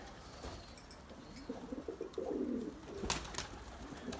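White pigeons kept as breeding birds coo softly and gently, nearby, with a few brief chirps and flutters over quiet background noise and no talking.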